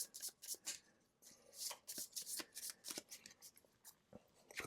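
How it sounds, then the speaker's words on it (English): Playing cards from a Tainted Grail board game deck shuffled by hand on a tabletop, a quick series of crisp riffling bursts and soft slaps repeating through the whole stretch, close and moderately loud with no talking. "Shuffle them up."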